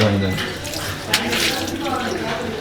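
Tap water runs steadily while hands are washed, a close continuous splashing stream with people talking over it.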